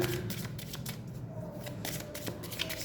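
Tarot cards are shuffled and drawn from the deck in a quick, close, papery riffle that runs throughout, with no talking.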